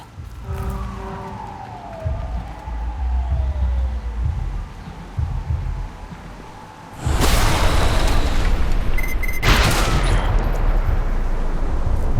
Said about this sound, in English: Weren't we here just for the fireworks?